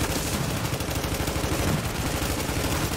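Sustained gunfire in The Division video game, a dense continuous barrage of rapid shots like machine-gun fire, loud and steady throughout with no break.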